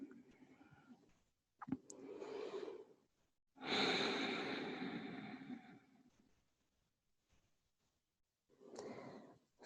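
Slow, deep yoga breaths drawn in and let out in long, soft rushes, with sighing exhales spaced by quiet pauses, close and alone during a resting pose.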